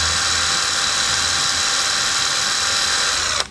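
A Makita TD110D impact driver runs steadily at one of its ten speed settings, a continuous loud whining motor note that holds level for several seconds and then cuts off abruptly at the end.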